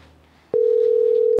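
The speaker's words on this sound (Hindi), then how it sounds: "क्या करूँ, मनीष भैया को फोन मिलाती हूँ।" A telephone tone plays while a call is being placed, a single loud, steady pure tone that starts abruptly and holds for nearly a second, heard alone and close.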